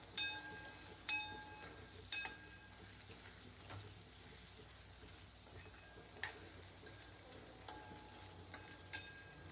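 Okra for bhindi masala gets stirred with dry spices in a pan over low flame, a faint sizzle under soft, intermittent clicks and scrapes of a spoon against the pan, with no talking.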